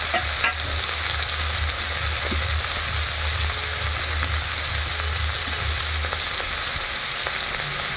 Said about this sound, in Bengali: পাঁচ ফোড়ন দেওয়া হচ্ছে